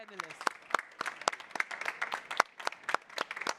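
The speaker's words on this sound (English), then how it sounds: "a last warm round of applause for all four panelists" Scattered applause from a small in-person audience at a climate finance panel session, a few distinct hand claps rather than a full ovation, with speech audible over it.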